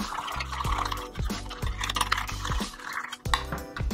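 Vegan mayo and white wine vinegar are stirred together in a bowl, giving close, wet, rhythmic scraping and sloshing strokes that repeat steadily for a few seconds with no talking.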